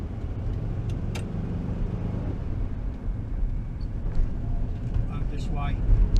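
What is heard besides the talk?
VW T2 bus engine driving off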